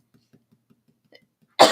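A person coughs loudly, a sudden harsh burst near the end after a stretch of faint quiet sounds, close to the microphone.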